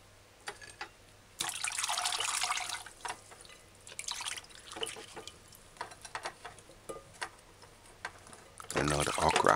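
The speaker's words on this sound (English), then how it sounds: "Now the scallion, sometimes it's dirty, so you gotta use your fingers and wash scallion's leaf properly." Tap water runs in bursts as scallion leaves are rinsed and rubbed clean by hand, with dripping and splashing between steady flows and a louder rush at the end.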